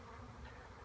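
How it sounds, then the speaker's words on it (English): A steady, dense buzz of many honeybees droning close by during beekeeping, continuous and fairly quiet. "that whole pile of bees that's up on top"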